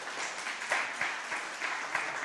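A church congregation in London applauds during a sermon, a dense, even wash of clapping from many hands, fairly close and with no voices over it.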